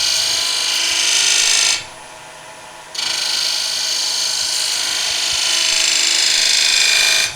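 A skew chisel rolls a half bead in a V-cut on wood spinning on a lathe, giving a steady close hiss of cutting that stops for about a second and then resumes, with no talk.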